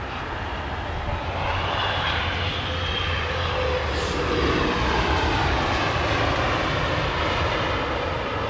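A Gulf Air jet airliner's engines roar steadily overhead at London Heathrow Airport, a broad loud rushing drone that swells slightly as the aircraft passes, with no voices.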